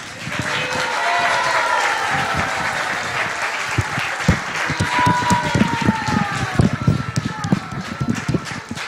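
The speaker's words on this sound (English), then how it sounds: "And all a very big hand of applause." Applause from an audience after a children's drama at a Gaura Purnima evening celebration, a steady wash of many clapping hands that fills the room and carries on for several seconds, with voices mixed in.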